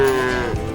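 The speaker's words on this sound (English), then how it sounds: "here we're going to learn today a little bit about cattle" A cow on a cow-calf cattle ranch lets out a single loud, sustained low moo, close by and heard alone.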